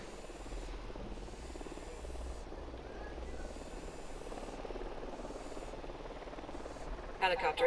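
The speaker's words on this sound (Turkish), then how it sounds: "Helicopter inbound." A helicopter approaches in the video game Ghost Recon Wildlands, its steady rotor whir and buzz rising gradually under faint background talk, ending with a brief louder burst.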